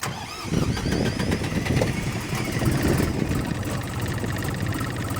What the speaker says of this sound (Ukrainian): ну і запуск двигуна. Давайте його запустимо.